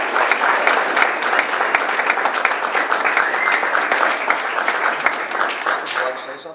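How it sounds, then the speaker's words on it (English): At a Rotary club meeting, an audience gives a dense, sustained round of applause that lasts several seconds at a steady level, with some crowd murmur mixed in, then fades at the end. "Please give them a round of applause."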